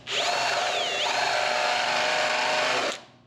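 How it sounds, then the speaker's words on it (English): A power drill countersinks a bolt hole in a metal flange on a part van, part truck build, a steady high whine with a rising and falling pitch near the start, running continuously close by for about three seconds before stopping. "So now I'm going to countersink that flange."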